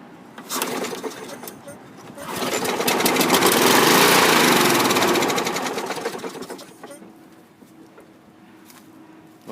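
A Craftsman lawn mower engine with a dirty carburetor catches, sputters up to a rough roaring run for a few seconds, then dies away, leaving a quieter background with faint chatter and bird sounds.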